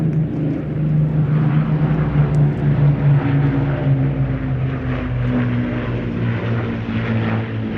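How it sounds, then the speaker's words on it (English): Spitfire propeller aircraft flying past at the Midlands Air Festival, a loud sustained engine drone with a steady harmonic growl that swells and holds across the pass, with no talking. "As they fly past, ladies and gentlemen, boys and girls, they can see you."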